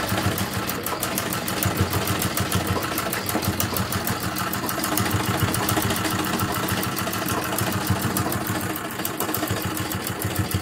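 Sewing machine stitching the edge of a garment sleeve, a steady rapid mechanical clatter with even needle strokes running continuously, close and alone without talk.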